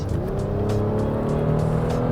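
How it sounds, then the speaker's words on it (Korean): A Honda Pilot Black Edition's naturally aspirated engine revs smoothly toward 6000 rpm, its steady, loud drone climbing gradually in pitch with no voices over it. "지금 5000rpm을 넘고 거의 6000rpm까지 쓰고 있거든요 근데 상당히 이제 공격적이지 않고 부드러운 음색을 내고 있다는 점 볼 수 있습니다"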